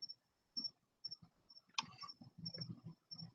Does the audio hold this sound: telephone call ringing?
no